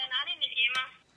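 A telephone sounds a series of tonal beeps in short bursts, close and moderately loud.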